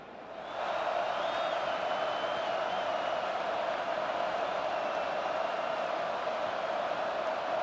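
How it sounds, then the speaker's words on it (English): Steady stadium crowd roar filling a college football video game broadcast, Oregon at Iowa, a dense continuous wash of noise after a short quieter start, with faint whistle-like tones drifting above. "This crowd trying to make life miserable for this offense."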